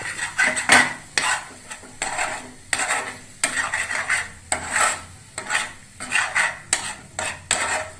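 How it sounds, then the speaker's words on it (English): Pasta is stirred and mixed in a pan at home with a utensil, making about a dozen rhythmic scraping strokes against the metal over a faint sizzle, close and without talk. "Now we'll give a mix, final mix, touch-up mix, so that all things get properly mixed up."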